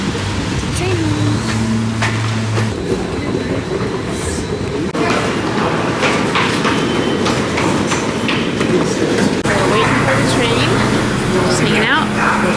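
An A train rumbles and clatters through a busy underground subway station, with a steady low roar, echoing announcements and people talking nearby.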